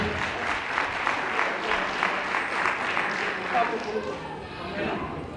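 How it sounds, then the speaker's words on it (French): Audience applause at a Hmong New Year celebration in Irigny, France, a steady dense wash of clapping throughout, with voices talking over it. "Merci de les applaudir."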